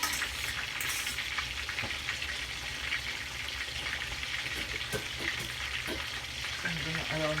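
Onions and sweet pepper fry in hot oil for Jamaican escovitch snapper, giving a steady, close sizzle and crackle throughout with occasional stirring clicks and no talking.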